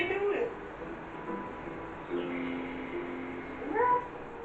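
A person imitates cat meows during a piano sequence at a Star Académie concert, several drawn-out rising and falling vocal meows spaced across a few seconds, fairly faint over quiet background.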